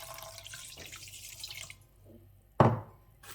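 Warm water poured for meat pie dough, alongside Greek yogurt, makes a steady splashing rush for under two seconds, followed by a sharp knock of a container set down nearby.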